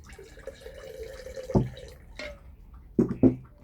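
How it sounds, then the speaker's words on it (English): Water poured into a sourdough starter in a home kitchen, quiet trickling followed by a few sharp splashy drops and plops, close and faint. "same amount of water back in"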